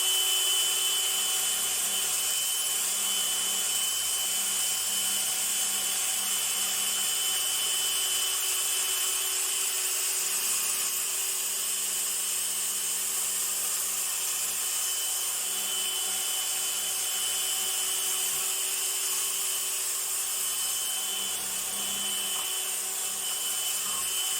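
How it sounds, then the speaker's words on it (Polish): Cordless drill spinning a wire brush against a rusty rear brake hub, a steady high whine with scratchy abrasive hiss running continuously at close range, no speech. "Można użyć szczotki zwykłej stalowej, można użyć takiej szczotki na wkrętarkę. Ja użyję szczotki na wkrętarkę."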